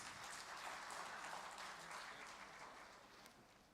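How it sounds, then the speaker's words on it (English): An audience applauds two competing teams at an optometric association annual scientific session, a dense, steady roar of clapping hands that fills the whole moment and slowly tapers slightly toward the end, with no speech. "give a good round of applause to these two teams"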